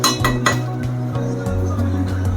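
A lid goes onto a cooking pot of prawn pulao with a quick run of metallic clinks and light clatter, close and fairly loud, over a steady low hum.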